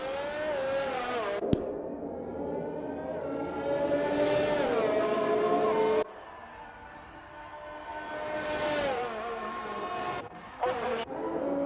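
Racing-game Formula-style car on board at Monaco, its engine wailing up and down through gears in long rising and falling sweeps, with a sharp upshift click and a sudden cut as it brakes, fairly loud with no talk over it.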